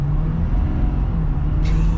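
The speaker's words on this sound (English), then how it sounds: "Let's get our acceleration here." A 2022 Ford F-350 Platinum Super Duty pickup accelerating, a loud steady engine drone with a strong low hum that holds close and even for the whole moment.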